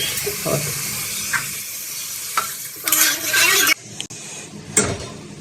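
Water hits a hot pan of homemade desi-style yam (jimikand) curry in a short hissing splash, with spoon stirring and scraping sounds before and after it.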